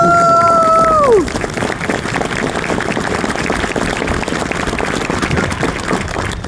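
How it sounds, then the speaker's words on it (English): A large crowd at a Parris Island Marine Corps graduation applauds steadily and loudly, the clapping a dense wash that follows a brief sustained tone and carries on to the end. "Please join me in a round of applause one last time"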